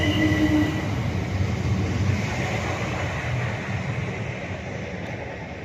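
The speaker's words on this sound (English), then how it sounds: "we're changing trains here." A train runs through Norwood Junction station in London, its steady rumble of wheels and carriages loud and close throughout, with no voices.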